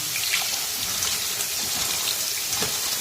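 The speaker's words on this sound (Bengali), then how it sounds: "আর এদিকে চলো লাল শাকগুলো ধুয়ে নিই" Tap water runs over red amaranth greens being washed, a steady close splashing and trickling with slight bursts as the leaves are handled, and no voices.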